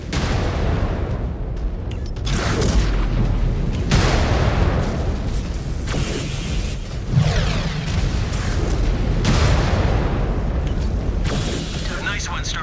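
Missile explosions and weapon impacts rumble through intense MechWarrior 5: Clans combat, a dense, continuous barrage of booms and blasts with mechanical clatter, while a voice speaks over the action.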